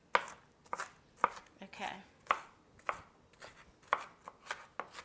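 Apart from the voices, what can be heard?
chopping onions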